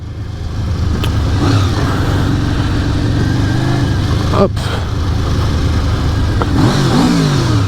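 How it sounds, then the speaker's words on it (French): A 1988 Honda VFR 750 F RC24 motorcycle engine idling and revving, a steady close mid-pitched engine drone with a couple of throttle blips and a brief spoken word over it. "Voilà ce que je disais, un peu le son du moteur."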